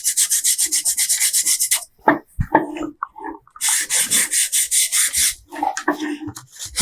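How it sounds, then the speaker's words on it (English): A wooden keepsake box has its edges sanded by hand, with rhythmic back-and-forth rasping strokes in two clear bursts separated by knocks and handling noises, close and fairly loud. "So go ahead and sand them."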